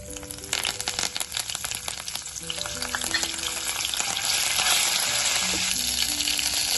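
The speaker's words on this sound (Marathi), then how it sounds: "लगेचच घालणार आहोत आपण याच्यामध्ये कढीपत्ता" Curry leaves crackle and sizzle in hot oil with cumin and mustard seeds, a steady, close frying hiss that swells and thickens toward the end, heard alone while tempering a village-style drumstick curry.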